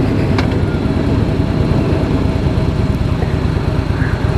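A 2016 Harley-Davidson Fat Boy S with the 110 engine runs at a steady, loud rumble close by, its low thumping pulse continuous with no talking.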